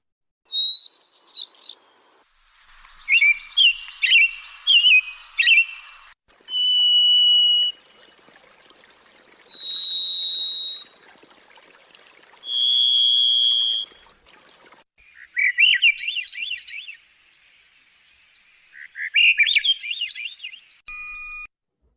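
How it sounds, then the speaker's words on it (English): A series of clear American robin songs near Lake Tahoe: varied warbled phrases, steady whistled notes, and rising-falling trilled spirals, repeated with short pauses, fairly close with no voices. "The American Robin has a much different sound, but it does have a spiral typically"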